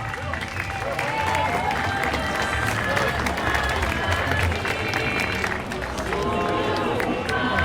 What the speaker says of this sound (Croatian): Pozdravljamo ih velikim pljeskom.